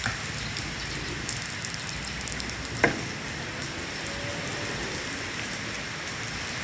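Steady rainy-season rain patters and hisses on a surface throughout, with a few louder drips and a sharp tap partway through.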